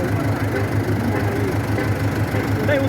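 A Tiger DI 60 CRDI tractor diesel engine idles nearby at a steady, low, pulsing rhythm with a slight knock, close and even throughout.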